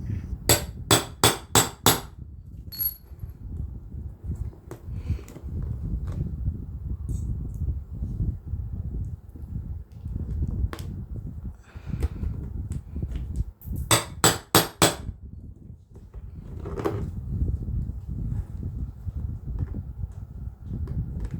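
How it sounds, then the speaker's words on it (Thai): Sharp metallic hammer blows drive a rivet onto a bag woven from plastic strips, coming in quick bursts of four or five strikes at the start and again midway, with quiet handling noises between. "ให้นำหัวหมุดมาวางประกบด้านบนนะคะแล้วก็ครอบตอกหมุดเลยค่ะ"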